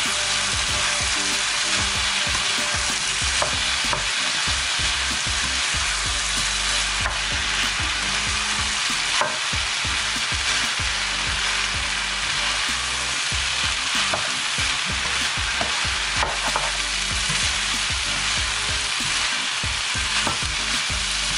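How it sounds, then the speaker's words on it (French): Rice and vegetables frying in a pan under a dense, steady sizzle, with frequent scraping and clattering from stirring throughout. "Je viens remuer tout cela pour que ça se mélange."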